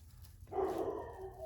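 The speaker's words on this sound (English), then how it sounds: "this dog, I swear, his bark is so loud" Dog barking loudly indoors, a single bark bursting out after a quiet moment during a wreath-crafting session, somewhat muffled and not very close.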